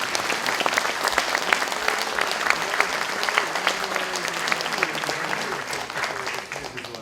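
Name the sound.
audience applause at a university inauguration ceremony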